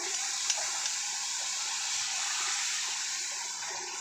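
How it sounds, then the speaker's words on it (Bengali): Water is poured into a pan of cooked-down, seasoned curry, giving a steady rushing hiss for about four seconds, close and even, with no talking. "এবার আমি জল দিয়ে দেবো হালকা"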